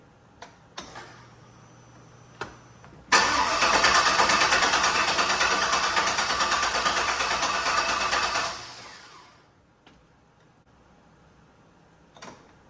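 A turbocharged 6-litre engine on its first fire cranks with a few clicks, then catches into a loud, steady broadband roar for about five seconds before dying away, leaving faint ticking.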